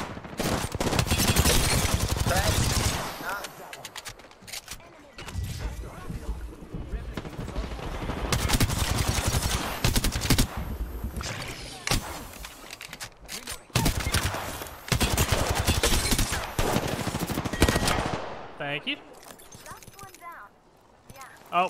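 Rapid automatic gunfire in Apex Legends clatters in long bursts separated by short pauses, loud and close, with players talking excitedly over the shooting.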